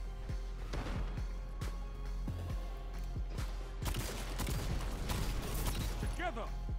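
Repeated sharp gunshots from the Ace of Spades hand cannon in Destiny 2 PvP crack out in irregular bursts, some in quick runs, over a steady game background with a voice talking at times.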